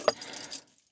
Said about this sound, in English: Yeah, keys, some of which I'm not sure what they fit